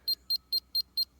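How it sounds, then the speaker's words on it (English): A laser level sensor unit emits a steady run of six short, high, bright electronic beeps, evenly spaced and close by, with quiet gaps between them. "You get slow beeps to go up if you're not looking at it, and high beeps to go down."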